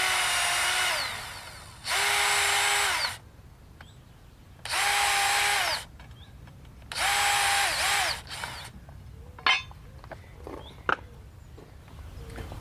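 A power drill drives screws into wooden railway sleepers to fix rails for track panels, three loud close bursts whining up and winding down with pauses between, followed by clunks and knocks of handling.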